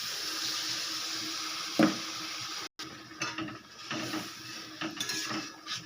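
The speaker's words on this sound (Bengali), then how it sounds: "এবারে দিয়ে দেব জল" Water is poured into a pumpkin kofta curry in a pan, which already holds a poppy seed, cashew and green chilli paste. It makes a steady splashing rush for several seconds, briefly cuts out, then returns more unevenly. No one speaks.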